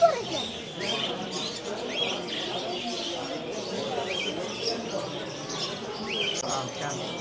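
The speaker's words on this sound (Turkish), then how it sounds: "Papağanlar var." Parrots and other small birds for sale at a flea market in Tashkent, Uzbekistan, giving scattered chirps and tweets amid busy market bustle, with people talking nearby.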